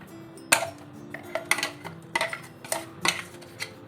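A spoon clinks and scrapes against a bowl as moong paneer dosa batter is scooped out of a mixer jar, giving a series of sharp, close metallic taps spaced unevenly over a few seconds.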